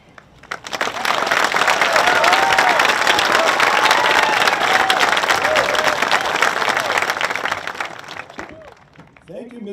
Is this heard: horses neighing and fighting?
no